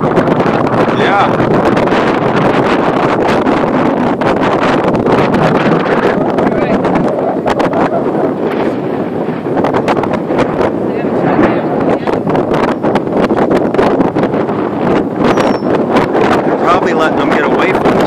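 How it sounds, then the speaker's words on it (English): Strong wind from a storm in Somers Point, New Jersey buffets the microphone in a constant roar, with voices talking faintly underneath throughout. "It's getting really windy now."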